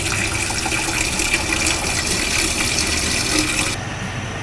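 Water gushes steadily from a tap into a pot of beans being covered with about two inches of water, a loud continuous filling sound that cuts off near the end.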